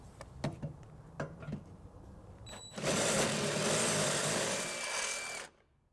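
A drill with a larger bit enlarges a pilot hole for a trailer hitch bolt on a 2017 Ford Focus. It whirs steadily for about three seconds after some scattered clicks and taps.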